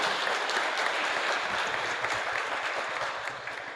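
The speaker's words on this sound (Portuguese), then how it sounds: "Salva de palmas." An audience applauds steadily and fairly loudly throughout a didactic symphonic concert, a dense, continuous clapping that tapers slightly at the end.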